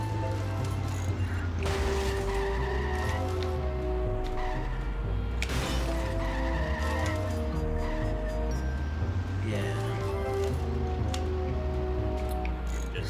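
A car drives in the GameCube version of the Simpsons Hit & Run video game, with a rising and falling engine hum, ratcheting mechanical clicks and brief skidding bursts over steady game audio.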